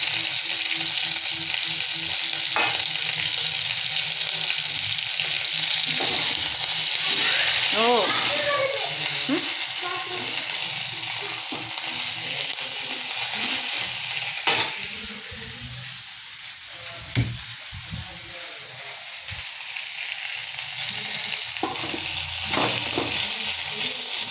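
Ingredients for mint chutney sautéing in a pan, a steady broadband sizzle running throughout with occasional stirring scrapes, while a voice talks over it in places.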